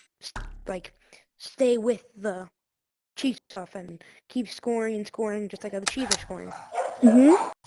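Pet dogs give brief yips and a whine in the background, partly masked by someone talking continuously over them.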